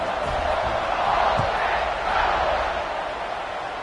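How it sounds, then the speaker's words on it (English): A stadium crowd at a college football game against Ole Miss roars in a broad, continuous wash of cheering that swells and holds, loud and distant-sounding, with no clear voices on top. "this crowd is feeling themselves after that last drive."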